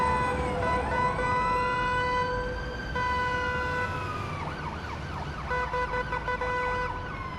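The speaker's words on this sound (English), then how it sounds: "we are using the Ottawa siren" An Ottawa-style ambulance siren wails loud and close, shifting from a long rising-and-falling tone to a rapid yelp, alone with engine rumble and no talk.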